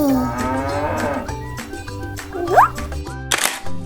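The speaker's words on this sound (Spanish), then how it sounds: "¡Oh, la vaca!" A large black-spotted cow moos in a drawn-out low call at the start, followed by shorter animal calls and clicks over a steady background of farm-like sounds.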